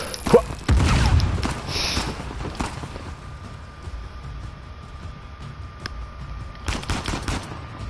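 Gunfire in the video game Uncharted: The Lost Legacy comes in loud rapid bursts at the start and again near the end. Quieter game ambience fills the gap between them, and no one speaks.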